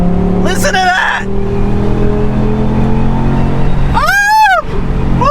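A BMW E60 M5 V10 with a misfire rumbles steadily at idle, then gets two sharp rising-and-falling revs, one near the start and one near the end. It is heard from close by, with excited talk over it.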